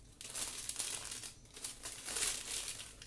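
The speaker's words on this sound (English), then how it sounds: "You've got my crinkly wrapper." A crinkly plastic wrapper from a DAC unboxing is handled close up, with bursts of crackling and crumpling that pause briefly and then resume.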